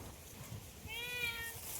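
A single drawn-out cat meow, fairly faint, rising and falling against a quiet, hissy background.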